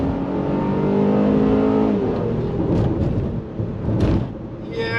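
A Honda Pilot Touring SUV with a 3.5-liter V6 accelerates hard from a stop, a loud, sustained engine roar rising in pitch from inside the cabin, with a brief dip near the end.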